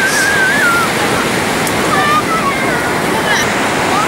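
Ocean waves wash steadily onto a beach on the Great Ocean Road in Victoria, Australia, a loud continuous roar of surf with wind buffeting the microphone and no distinct talk.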